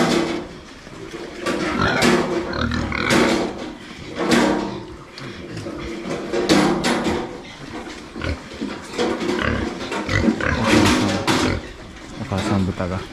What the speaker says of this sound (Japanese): お母さん豚が暴れてます。